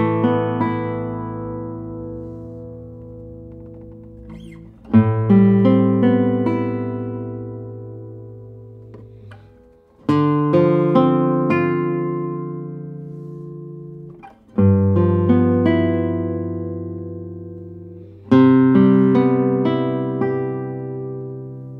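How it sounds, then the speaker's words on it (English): 1967 José Ramírez classical guitar with cedar top and Brazilian rosewood back and sides, played solo as a slow series of ringing plucked chords, each struck firmly and left to decay, about five strums in all. "Let's see how the guitar sounds."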